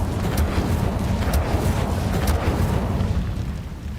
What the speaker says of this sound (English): Fireball.